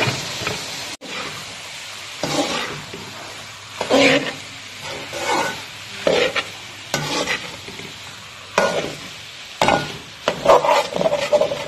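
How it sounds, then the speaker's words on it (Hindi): Boiled vegetables tossed into fried minced meat in a pan for Chinese rice, with repeated close scraping and stirring strokes over a soft steady sizzle. "अब हम इसके अंदर की अपनी सारी वेजिटेबल्स ऐड करेंगे।"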